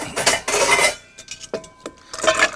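Frozen coffee ice cubes rattle and clatter out of a borrowed tray into a bowl in a home kitchen, two loud bursts of knocking followed by a few scattered single clinks, close and without talk.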